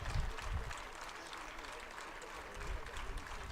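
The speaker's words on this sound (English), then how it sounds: "It's getting quite a cheer." An audience at the launch of a schools football programme in India cheers and applauds, a dense wash of clapping that swells at the start and end, with a voice talking over it.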